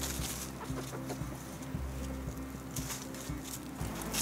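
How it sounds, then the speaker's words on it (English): Backyard hens of several breeds, including a white Silkie, clucking and murmuring together nearby in a steady, busy chorus with occasional sharper calls and no talk. "So those are our backyard chickens."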